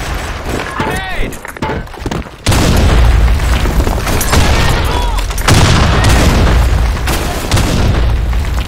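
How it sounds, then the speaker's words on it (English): Grenade blasts and gunfire in the online shooter Blackshot: booming explosions and rapid shots, loud and close, with a heavy detonation midway followed by rumbling fire. In-game voices shout over the combat. "Grenade!"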